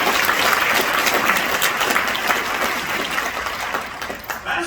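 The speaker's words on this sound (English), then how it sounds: "give yourselves a round of applause" Sustained applause from an audience at a Midtown Alliance annual meeting in Atlanta, dense, steady clapping filling a large room, slowly thinning toward the end.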